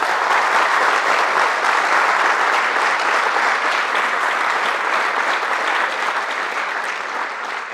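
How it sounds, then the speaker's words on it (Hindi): Sustained, dense applause from a seminar audience, loud and steady for several seconds with no talk over it, easing slightly toward the end. "तो पहले तो एक बार तालियां होनी चाहिए सर के लिए"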